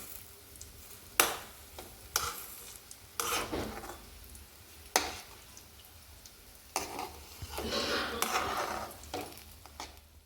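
Potato crispy rolls fry in oil in a pan over a low flame, giving soft intermittent sizzling bursts mixed with scraping and stirring of a utensil against the pan, close and fairly quiet, with no talk.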